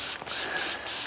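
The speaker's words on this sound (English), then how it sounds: "if I spray a little even more, and I do it really in the middle" A spray bottle fires three quick hissing bursts of ceramic detailer onto a car finish, evenly spaced, close and crisp, with no talk.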